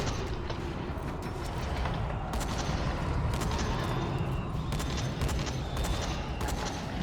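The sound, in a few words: shotgun fire in the video game Dying Light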